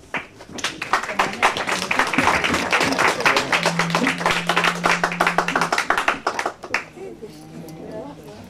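Audience clapping at a children's and adults' choir concert in Saint-Maur, dense and sustained for several seconds with a steady hum and voices mixed in, then tapering into scattered claps near the end.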